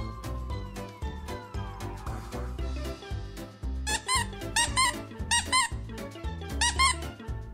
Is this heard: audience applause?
no